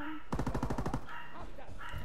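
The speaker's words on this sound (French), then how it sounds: "Arrête de me tirer." Call of Duty gunfire rips out as a fast automatic burst of about a dozen evenly spaced shots, loud and close, followed by a brief lull with scattered fainter game noise and a voice in the background.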